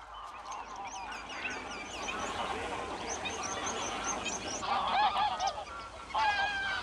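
Greylag geese honking in the Doñana marshes, a flock giving overlapping nasal honks and calls at moderate distance, growing louder in bursts toward the end over a low rumbling background.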